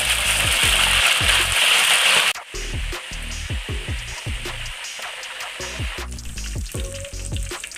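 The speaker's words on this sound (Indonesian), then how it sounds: "Nah, lanjut kita goreng telur puyuhnya sebentar saja." Quail eggs drop into hot oil with an intense hiss that settles after a couple of seconds into a quieter, steady sizzle broken by light clicks of stirring.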